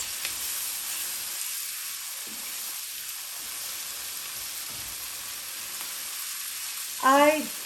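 Bottle gourd and peas with garlic paste sauteing in a pan while being stirred, giving a soft steady hiss with low stirring thumps and a brief voiced sound near the end.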